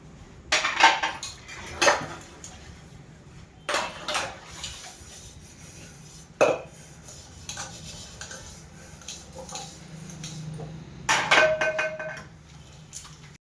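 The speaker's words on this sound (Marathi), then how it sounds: "चला तर आता भांडी उरकून घेते मी" Steel utensils are washed by hand, bright metallic clanks and clatters of pots and plates coming in separated bursts over quiet rubbing and running water, close by.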